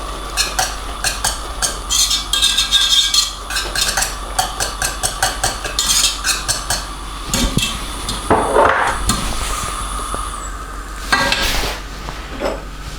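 A pot of Jamaican rice and peas being whisked to mix in jerk seasoning, with rapid rhythmic scraping and clinking of the whisk against the pot, plus a couple of louder knocks, close and without talk.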